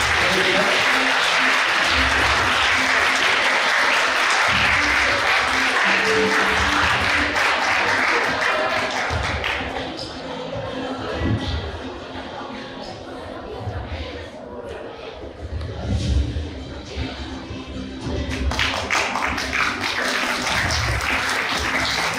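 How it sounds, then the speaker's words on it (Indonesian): Loud, sustained audience applause for the Herzens Choir of SMP Cita Hati Surabaya at an awards and closing ceremony, a dense wash of clapping that dips in the middle and swells again, with scattered crowd chatter. "Kita beri tepuk tangan yang meriah untuk Herzens Choir dari SMP Cita Hati Surabaya"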